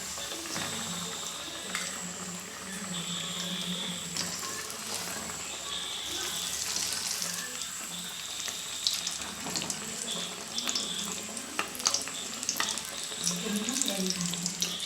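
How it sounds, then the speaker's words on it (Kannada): Marinated chicken pieces for crispy KFC-style chicken fry in hot oil, a steady, loud crackling sizzle that fills the whole stretch, close and continuous. "ಫಸ್ಟಿನೊಂದು ಪೀಸನ್ನು ಎಣ್ಣೆಯಲ್ಲಿ ಬಿಡ್ತಾ ಇದ್ದೇನೆ"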